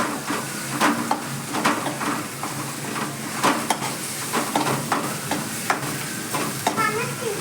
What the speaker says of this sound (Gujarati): પછી એમાં આપણે હલ્દી નાખશું અને એને આપણે બધું પાછું મિક્સ કરી નાખશું